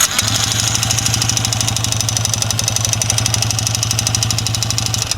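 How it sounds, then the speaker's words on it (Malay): A motorcycle engine fitted with a new top set idles with a persistent rhythmic knock, blamed on the connecting rod; the rapid, even clatter sits steadily over the engine's low hum, close and loud, with no talking. "Kita suspect bunyi road mesin ni."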